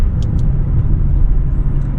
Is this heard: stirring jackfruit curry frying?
no